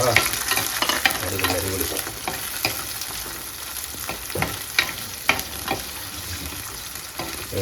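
Chopped onions, green chillies and garlic sizzle steadily in hot oil in a pan while a spatula scrapes and stirs at irregular intervals, close and fairly loud.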